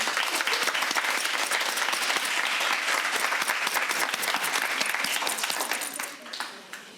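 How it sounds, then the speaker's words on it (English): Dense, steady audience applause for Mayor Sharon Weston Broome at a Baton Rouge campus event, sustained for several seconds before tapering off near the end. "give your full round of applause and attention to Mayor Sharon Weston Broome"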